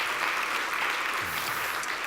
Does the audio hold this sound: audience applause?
yes